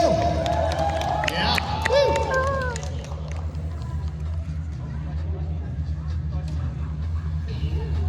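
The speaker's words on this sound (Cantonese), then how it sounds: "好嘢，俾啲掌聲好冇？" An audience at a trial-bike stunt show cheers and claps for the rider, a lively crowd noise with voices rising over it, loudest in the first few seconds.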